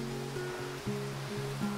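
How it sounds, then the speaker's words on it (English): Steady broadband rush of the waterfall at Mobong Falls near Coffs Harbour, heard from a short distance as a continuous wash, with a low engine hum layered underneath. "I can hear a waterfall."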